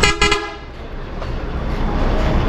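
A loud, close multi-axle Volvo B11R bus horn blasts in short repeated honks at the start, then fades into the bus's rumbling engine and road noise.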